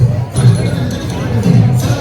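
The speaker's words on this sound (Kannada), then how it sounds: "ಎಂಚಿನ ಕ್ರೌಡ್ ದೇವರೇ" Dense crowd noise at a temple Dasara festival during Navaratri, a steady murmur of many voices with bursts of cheering, continuous and fairly loud throughout.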